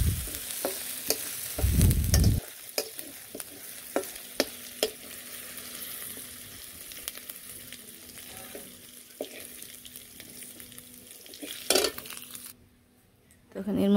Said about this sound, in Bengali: তখন এর মধ্যে মাথাটা ভেজে নিই।